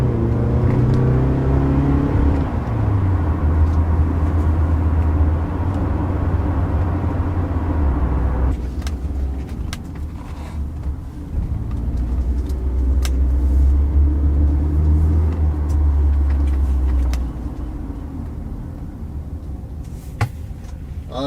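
A car pulls away from an auto parts store, its engine rumbling loud and steady with a low drone that shifts as it accelerates and cruises, no voices over it.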